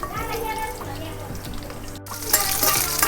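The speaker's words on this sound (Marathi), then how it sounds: "तेल टाकलं तर आता मोहरी टाकून घेते जिरं पण टाकते लसूण टाकून घेते" Mustard seeds, cumin and garlic frying in hot oil give a continuous crackling sizzle with occasional spattering, heard under someone talking throughout.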